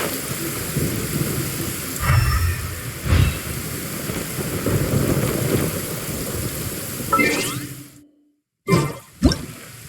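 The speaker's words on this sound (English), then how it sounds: "Many people dread the sound of thunder." Rain pours steadily in a Genshin Impact scene, with rolling thunder rumbles building twice, then a sudden cut to silence followed by two sharp close thunder cracks.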